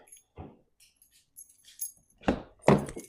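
Keys jangle and clink in bursts, a few soft rattles followed by two louder shakes close by, as someone searches for them late at night before starting a 6.7 Powerstroke truck.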